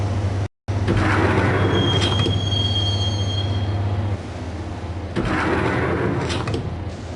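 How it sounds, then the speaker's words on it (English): Subway train ride in the video game Max Payne: loud continuous rumble of railcars with high wheel squeal, a brief cut near the start and a dip then swell of rolling noise later, no talk. "the train doors had already shut behind me, and I was in for the ride"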